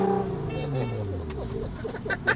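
Nissan GT-R sports car with a 700-horsepower engine, its steady droning note sliding down in pitch as it runs, close and fairly loud, with a few faint clicks and pops near the end.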